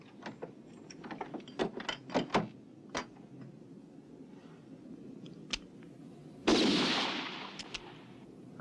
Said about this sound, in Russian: Кто стрелял? Что это был за выстрел?